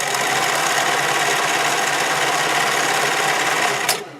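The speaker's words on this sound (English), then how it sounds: "I'm going to sew the neckline, back stitch that neckline where you're starting it" A sewing machine runs steadily, loud and close, stitching the neckline of stretchy swimwear fabric in one continuous whirring burst before stopping.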